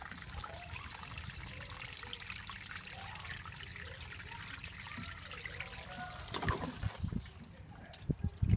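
Water trickles and pours steadily onto tomato plants in a back garden, faint and close, ending with a few splashes and knocks.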